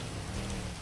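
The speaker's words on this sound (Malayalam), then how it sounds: "ഹൈ മഴ" Steady rain falls in a dense, even hiss with no pauses, moderately loud across the short stretch and with no voices over it.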